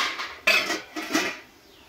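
Small dishes set down and covered while making homemade flour papad, two sharp clinks of metal or ceramic about half a second apart with a short ringing tail, close up and without talk.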